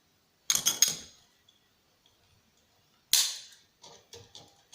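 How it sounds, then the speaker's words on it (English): Cutters snipping wires off the electron gun of a CRT TV during a teardown: a quick cluster of sharp snips, a pause, then a louder clip followed by several lighter snips, close and crisp in a quiet room. "I'm just snipping the wires off the electron gun here, carefully."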